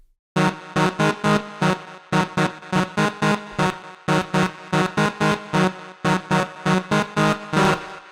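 An Asa synth preset in a melodic techno style plays alone: rhythmic, evenly spaced stabbed chords pulse in a steady pattern, bright and full, each hit cut short with brief gaps between.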